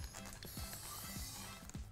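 A nitrous oxide charger is screwed onto a cream whipper for vegan whipped cream, making a series of soft, close ratcheting creaks and scraping twists at irregular intervals.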